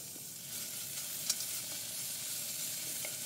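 Vegetables and chillies sauté in a pan at a campsite, a steady soft sizzle running throughout with faint stirring clinks, one brief sharper tick near the middle.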